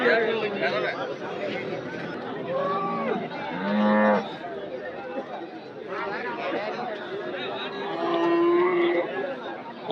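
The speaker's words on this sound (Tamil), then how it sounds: "மாடு" Dairy cattle moo several times amid busy crowd chatter at the Anthiyur cattle market, the lowing cows close by and mixed with overlapping voices.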